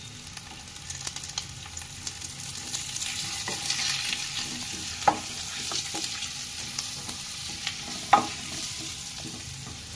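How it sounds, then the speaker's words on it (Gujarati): Papaya and green chili relish with turmeric frying on low heat in a pan, stirred steadily with a spoon, giving a soft continuous sizzle with a few sharp scrape clicks, no talking. "પપૈયાને આમ સતત ત્રીસ ત્રીસ સેકન્ડને હલાવતું રહેવાનું એટલે તળીએ છોટે નહીં"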